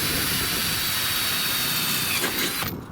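A power drill whirs steadily and loudly at close range for a few seconds, then cuts off abruptly at the end.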